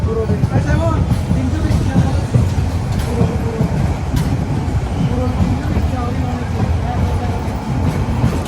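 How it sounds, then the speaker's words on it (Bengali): A train pulling into Cox's Bazar station rumbles steadily with a heavy low roar and faint clattering of wheels, continuous and close throughout. "কক্সবাজার স্টেশনে ঢুকে যাচ্ছি আমরা"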